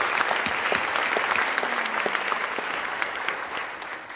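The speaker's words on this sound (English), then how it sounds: "I want to take this moment for us to give another round of applause for the class of 2018." Audience applause for a graduating class of 2018 at a master's degree ceremony: steady, dense clapping from a large crowd fills the room without pause, with no talk over it.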